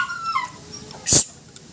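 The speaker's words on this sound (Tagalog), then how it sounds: "Ingay itong aso to." A noisy dog sits near a small engine being worked on, giving faint whining tones and then one short, sharp bark or yelp.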